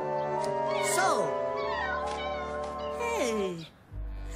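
Kittens meowing in a cartoon: several high, sliding meows overlap across the first seconds, then a final drawn-out meow, all close and clear, with a voice-actor imitation feel and some background music.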